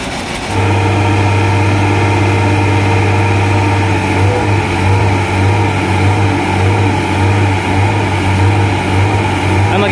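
Large Italian-made trash harvester machine running at Manila Bay, a loud, close, steady engine drone with a strong low hum that holds evenly for about ten seconds after starting.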